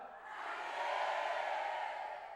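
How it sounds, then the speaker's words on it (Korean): A church congregation shouts together in one sustained collective cry, a dense roar of many voices swelling gently and holding steady for a couple of seconds, filling the hall. "하나님 외쳐봅시다."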